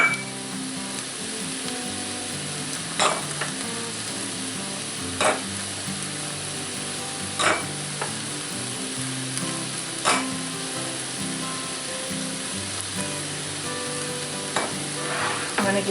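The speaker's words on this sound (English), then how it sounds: "just stir that in like this." Seasonings being stirred into a venison hamburger skillet meal with tomato paste in a cast iron pan, a steady sizzle under soft scraping strokes and a few sharper clinks of the utensil against the iron.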